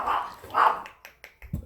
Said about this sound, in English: He may bark for a second.